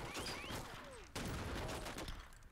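Gunfire from the video game Red Steel, a dense burst of rapid shots filling the clip with a sharp jump in loudness midway, loud and close.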